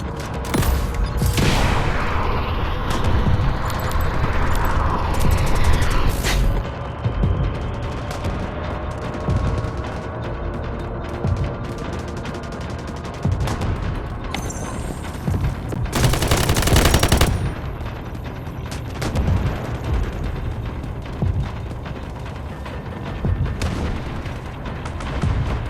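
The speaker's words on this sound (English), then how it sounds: "Artillery barrage incoming." Battlefield combat in the mobile shooter Delta Force Mobile. Dense bursts of gunfire and heavy booming blasts from an artillery barrage roll on continuously, with louder explosive surges near the middle and no voices.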